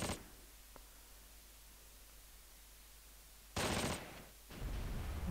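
Gunfire from the beach in Close Combat, a WWII strategy game, comes as harsh noisy bursts: one sharp burst at the start, a quiet stretch of hiss, then a loud burst and a further sustained crackle near the end.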